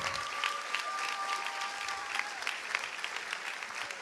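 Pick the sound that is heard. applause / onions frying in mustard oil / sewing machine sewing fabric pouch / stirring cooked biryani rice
applause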